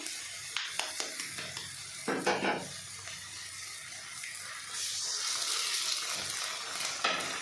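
Taps and clinks give way to a steady sizzle as eggs hit a hot pan for egg bhurji, the frying hiss rising and holding up close.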